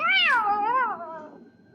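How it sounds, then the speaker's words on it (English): A single drawn-out cat meow, close and clear, rising and falling before trailing off. "It's a cat."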